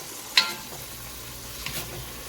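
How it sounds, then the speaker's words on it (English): Meat sizzles softly in a stir-fry pan, with a couple of brief scraping stirs against the cookware over a steady frying hiss. "the meat is starting to cook. We're just gonna mix it and keep chopping it"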